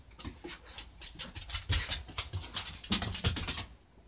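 A loose puppy dog whimpering close by in a series of short, uneven bursts, with faint pattering movement between the cries.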